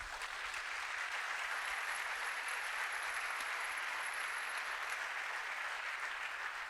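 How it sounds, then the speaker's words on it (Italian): Steady, loud applause from a live audience at an evening event, honoring the crowd and the volunteers, dense and continuous with no voices over it. "il più grande applauso va a voi e a tutti i volontari"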